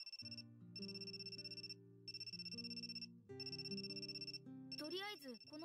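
A phone ringtone in the visual novel game Amnesia Memories plays as repeating electronic bursts with short gaps between them. A brief warbling tone closes the sequence, and the whole passage is faint but clear.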